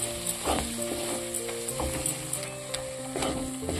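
Chili powder and masala spices frying in a pan for a mutton-fat and pea ghugni, a steady close sizzle with light scraping stirs and soft clicks throughout, no voices.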